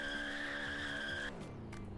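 Game car tires squeal in a long, loud, steady skid while drifting in Roblox Greenville, with engine rumble underneath, then the squeal cuts off and only a lower motor hum carries on.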